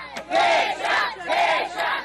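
A crowd cheers and shouts in support of a young man named Alexandre who was locked out of an Enem exam gate, loud rising whoops in repeated surges, close and continuous.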